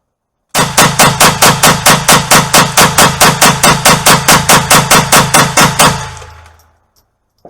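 GSG STG 44 .22 LR rifle fired rapidly, around two dozen sharp, evenly spaced cracks in a fast steady rhythm, loud and close, ending abruptly with a short fading tail.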